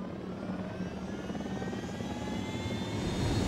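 Helicopter engine and rotor in Ghost Recon: Wildlands, a steady loud whine and thrum that builds slightly in intensity, with no talking.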